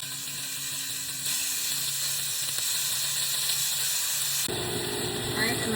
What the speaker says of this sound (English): So I'm gonna put a little bit of oil down in my skillet just to coat the bottom. And I'm gonna throw my steaks in there.